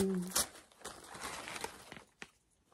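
Crinkling and rustling of wrapping paper as a Christmas gift is unwrapped, with sharp crackles and softer handling noises in irregular bursts, close up, after a brief voice at the start.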